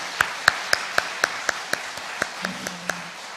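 A small congregation at an early-morning church service claps in a slow, even rhythm, about a dozen crisp, separate hand claps that are fairly faint and carry a slight room echo.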